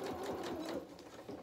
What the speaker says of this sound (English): I'm just stitching on the facing side